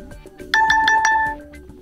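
A Nokia G10 phone plays its alarm tone, a bright repeating melodic chime of several quick notes lasting under a second, clear and close with a soft backing tune.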